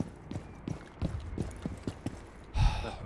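Horse hooves clip-clop in a video game, a steady run of about eight muffled thuds at an even trotting pace, followed by a louder, broader burst near the end.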